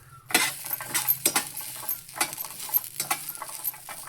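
Food being dry-roasted in a pan for payasam, with stirring scrapes, light sizzling and utensil clinks recurring in short irregular bursts at close range, no voices.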